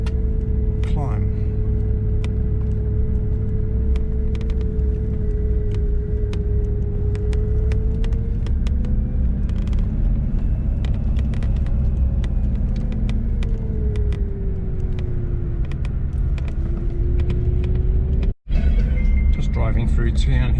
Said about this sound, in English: Driving through town here at Hughenden